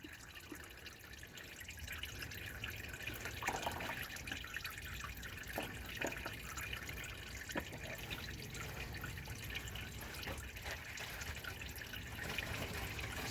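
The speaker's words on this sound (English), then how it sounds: "So now the oil's still draining out of the pan." Motor oil drains from the oil pan of a 5.7L engine in a 2001 Trail Lite B Plus motorhome, a steady liquid trickle with occasional drips, continuous and fairly close.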